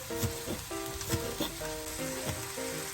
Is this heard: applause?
no